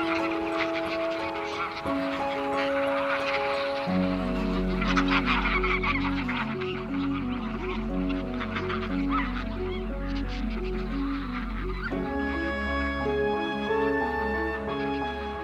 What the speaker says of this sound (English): thousands of wild geese in the winter. Their calls fill the air